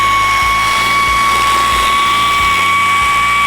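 Whining high-pitched drilling steady throughout, holes being bored into a dashboard mounting template for a Mazda FC RX-7 during reassembly, with a constant tonal whir and small dips as the bit bites, no talking.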